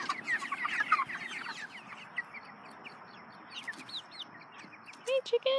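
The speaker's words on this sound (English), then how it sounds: "Hey, chickens." Free-range six-week-old broiler chickens clucking and chirping outdoors on a farm, a steady flock murmur with scattered louder calls near and far, busiest at the start and again at the end.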